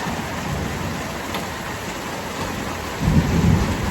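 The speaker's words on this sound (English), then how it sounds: "Can you hear the thunder?" Steady heavy rain hisses throughout, and a low rumble of thunder swells up near the end.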